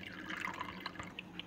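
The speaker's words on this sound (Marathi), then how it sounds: "बाउलमध्ये थोडंसं पाणी घ्यायचं आहे" Water trickles and drips into a bowl while banana slices are prepared for homemade chips; soft close splashes and droplets run for a brief moment, with no one talking.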